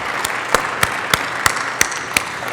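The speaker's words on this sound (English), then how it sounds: "I'd like you all to give our three panelists a big round of applause" An audience at a smart buildings and smart cities conference session gives the panelists a light, sparse round of applause, with a handful of distinct claps spaced at a steady rhythm.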